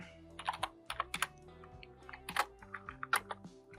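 Rapid keystrokes on a computer keyboard while HTML code is typed, a quick irregular run of crisp clicks in close bursts with brief pauses, near and fairly quiet over a low steady hum.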